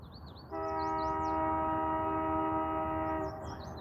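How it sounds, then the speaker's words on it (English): By a river, a train horn sounds one long, steady blast of about three seconds, loud and fairly close, while birds chirp faintly before and after. "Sounds like a train or something or coming along."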